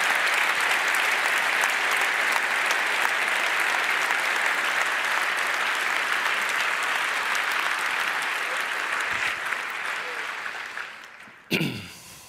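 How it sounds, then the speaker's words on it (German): A large audience at the closing event of the 30C3 congress claps loudly and steadily for about eleven seconds, then the applause fades and stops with a brief thump at the end. "Fall für Holoklaus, würde ich sagen, gibt es auch mal einen richtig dicken Applaus"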